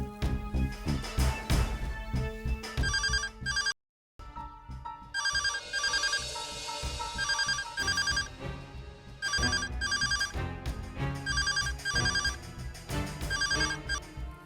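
A telephone rings repeatedly in a household scene of a Hindi TV serial, loud electronic ringtone bursts with a brief silent gap, played alongside dramatic music.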